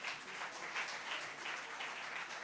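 Applause for the children at a Hindi youth event at the Nehru Centre, a faint, distant but continuous patter of many hands clapping with gentle swells in intensity, no voices on top.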